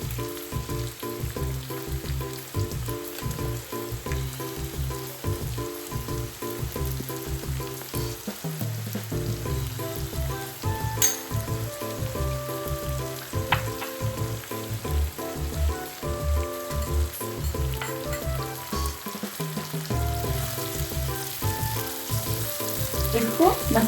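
Drumstick (moringa) pieces and potato fry with cumin, mustard seeds, garlic and chili paste in a hot pan, a steady close, loud sizzle with crackling and occasional stirring scrapes throughout.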